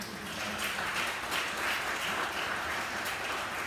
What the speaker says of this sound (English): put your hands together and give the big round of applause for this man